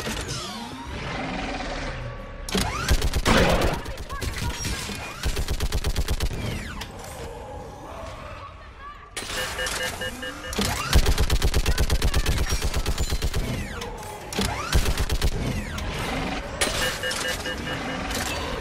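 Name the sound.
gun turret firing in Mass Effect 3 video game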